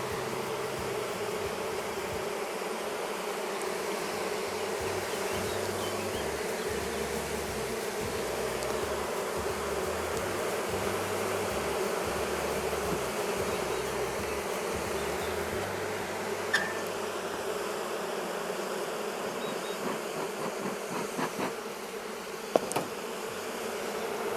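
Honey bees hum steadily around an opened beehive during an inspection after a storm, a dense, continuous buzz close by with no talk.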